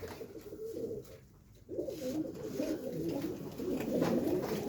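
Pigeons coo in soft, repeated low phrases, steady and fairly close, with a brief lull before the cooing resumes and grows fuller toward the end.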